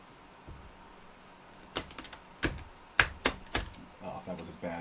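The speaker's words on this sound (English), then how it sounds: "Oh, that was a bad shuffle. That was not a good shuffle." A deck of reading cards is shuffled in a series of quick riffling, flapping bursts that grow more frequent toward the end, heard fairly close in a quiet room.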